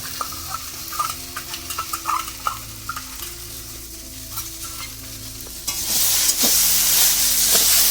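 Dried Bombay duck (lote shutki) being worked together with ground white mustard paste in a pan: wet, squelchy stirring and scraping with a few clinks, then a sudden louder, sustained hiss for the last couple of seconds.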